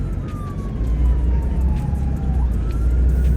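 An ambulance siren wails with slow falling and rising tones over steady traffic rumble, moderately distant.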